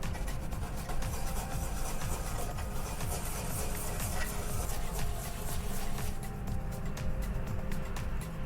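Wasabi being ground by hand with a steady, continuous rough rubbing and rasping, even in level throughout with no pauses.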